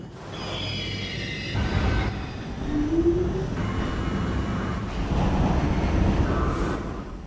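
An M line subway train runs with a steady rumbling roar of wheels on track, with squealing tones and rattling swells rising and falling throughout.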